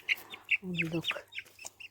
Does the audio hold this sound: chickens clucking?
yes